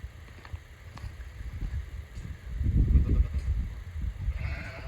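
Sheep and lambs bleat a few times at close range over a low rumbling background, with the loudest calls near the middle.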